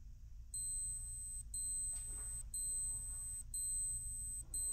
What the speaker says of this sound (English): we're going to listen to the alarm